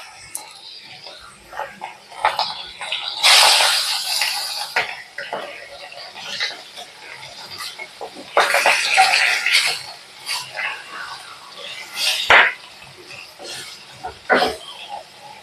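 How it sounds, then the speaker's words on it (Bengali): Fish heads dropped into hot oil in a home kitchen, with bursts of crackling sizzle swelling and fading alongside occasional utensil clatter and soft background noise. "এবার মাছের মাথাগুলো দিয়ে দেব"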